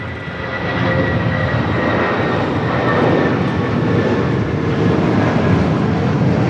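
An airliner rolls down runway 25 on the south side of LAX, its engines giving a steady, loud broadband roar that holds throughout, with no talk.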